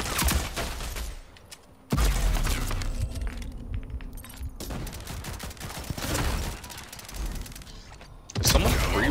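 Gunfire in Rogue Company, a multiplayer shooter: rapid bursts and volleys of automatic shots, near and loud, broken by short lulls, with some cracking, shattering impacts.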